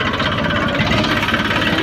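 Tractor engine running steadily while the machine turns in a field during ridge-making work, a continuous close, loud mid-pitched drone with a rough, knocking vibration and no talk over it.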